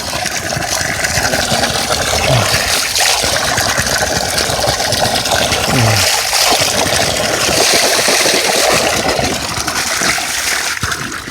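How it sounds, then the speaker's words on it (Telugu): Spring water runs from a hillside source in a forest cooking spot, a continuous loud rushing and splashing trickle that fills the whole stretch without pause. "ఊట నుండి వస్తుంది రాజు"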